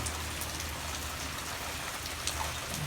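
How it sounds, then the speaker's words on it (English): Heavy rain pouring down outdoors in a steady, dense hiss with scattered nearer drops spattering on surfaces, loud and continuous with no talking. "Man, I never seen so much water. Never seen so much rain."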